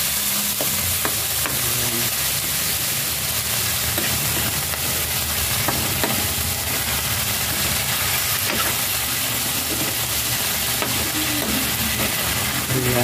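Corned tuna frying in a pan with eggs, a steady close sizzle with spoon stirring and scraping throughout, no talking.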